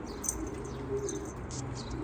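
Birds chirping and cooing nearby in a steady, busy chorus over a low background rumble, with no talking.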